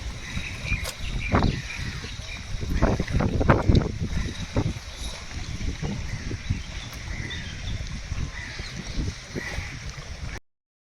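Water lapping and splashing gently on Sukhna Lake, Chandigarh, with a steady wash of rain noise; close splashes come and go against a constant hiss.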